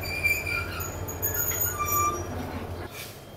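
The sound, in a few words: train arriving at Cox's Bazar railway station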